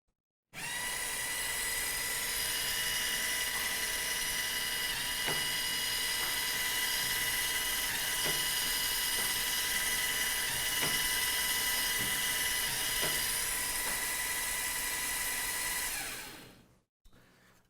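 An FTC robot prototype flywheel shooter, built from REV parts, spins up with a steady high-pitched whine for about sixteen seconds. Several faint thumps of shots being fired punctuate the whine. No one talks.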